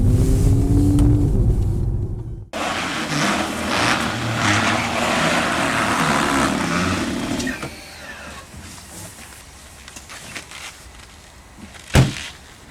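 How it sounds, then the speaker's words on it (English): A 2019 Mercedes-AMG GT 53 in comfort mode, its engine firing loud and near at startup. A dense exhaust roar holds for several seconds before easing off as the car pulls away, with a sharp knock near the end. "Gives you a little crack on startup. You can then pull away."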